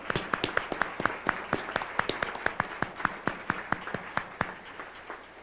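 Audience at an IEEE awards ceremony applauding, a thin scattering of distinct handclaps in a loose, fairly regular rhythm that slowly tapers off, with no talk.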